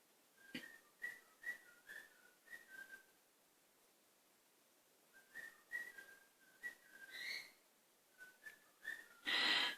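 A pet bird, most likely a songbird, whistles loud, bright, repeated phrases in separate bursts with short pauses between them, recorded indoors with no voices.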